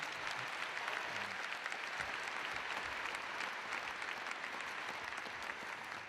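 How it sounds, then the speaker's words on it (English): Dense, sustained applause from a large audience at a Ball State University fall commencement ceremony, steady clapping filling a big hall, loud and continuous with no distinct voices. "Would you give him a round of applause?"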